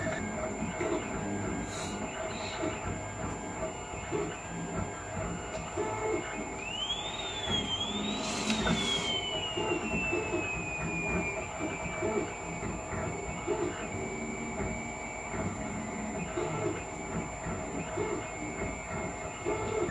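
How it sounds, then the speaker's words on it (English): An Anet A8 3D printer rebuilt on an AM8 frame runs a print job at high acceleration, giving a steady, close mechanical whir and rattle with rising and falling stepper-motor whines and no talk. "This is printing with the acceleration settings at 312 millimeters per second."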